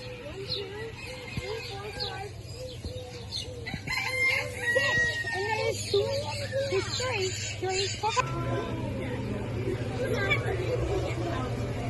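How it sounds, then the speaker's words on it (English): Chickens cluck and a rooster crows repeatedly amid a busy outdoor scene, with people chattering in the background and a steady low hum underneath. "goats and all, chickens running around, exotic birds"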